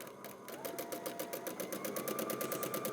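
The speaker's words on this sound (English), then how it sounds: "I locked it on by stitching in place" A sewing machine stitches in place to lock the top and bottom quilting threads, a steady rapid needle rhythm that speeds up slightly after a brief start and runs close and continuous with no talk.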